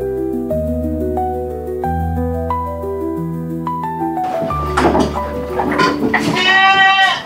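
Goats in a farm pen bleat in several wavering cries near the end, after a melodic musical passage, with rustling and shuffling pen noise around them.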